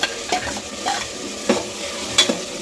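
Ground vegetable masala for pulao frying in a pan, a steady sizzle broken by several distinct stirring scrapes of a spoon at irregular intervals, close and alone.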